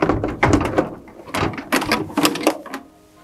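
Radiator being pulled free from a RAM truck with a 6.4 Hemi during a water pump job, heard as a close series of hollow clunks, knocks and scraping bumps in quick irregular bursts, then dying away.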